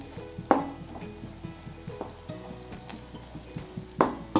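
Bread pieces fry in hot oil in a pan for bread halwa, giving a close, continuous crackling sizzle broken by a few sharp knocks and scrapes of a spatula, with no voices.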